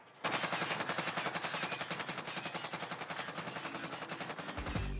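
A Krig assault rifle fires in a video game as one steady, rapid burst of evenly spaced, punchy shots that lasts several seconds and stops abruptly. The shots are loud and close, with no talk over them.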